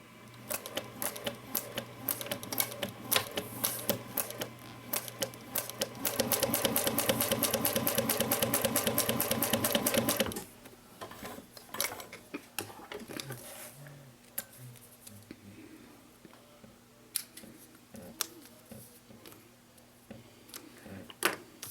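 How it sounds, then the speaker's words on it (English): A sewing machine stitches a mini box tote, first in short bursts, then a sustained fast run of rhythmic needle clatter, followed by scattered clicks and handling taps as it stops. "I'm going to stitch the one and then just continue down with the next one"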